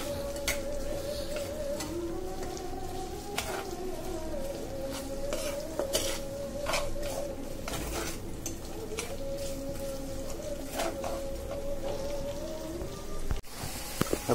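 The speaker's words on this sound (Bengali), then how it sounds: "কড়াইতে পেঁয়াজ দিয়ে দিলাম" Onions frying in hot oil in a wok, cooked for spicy crab curry: steady crackling sizzle with occasional stirring clanks of a utensil against the pan, close and continuous.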